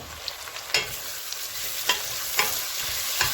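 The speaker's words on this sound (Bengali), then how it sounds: "একটু এখন নেড়ে ছেড়ে দিব" Onions salted and frying in a pan sizzle steadily and up close while a spoon stirs them, adding a few sharp scraping strokes at irregular intervals.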